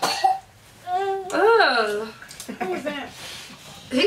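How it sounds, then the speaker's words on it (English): Someone coughs close by, with voices talking and crying out around the coughs. "He coughing all in folks' face."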